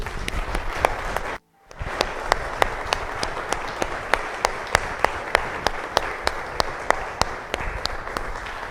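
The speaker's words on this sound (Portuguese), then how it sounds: "Aplauda Jesus." A church congregation claps together in a steady rhythmic beat, sharp evenly spaced claps over a dense bed of applause, with one brief dropout near the start before the clapping resumes.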